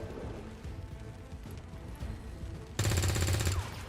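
Gunfire in the XCOM 2 video game, a sudden loud rattling burst near the end after a quieter stretch of game ambience, close and dominant.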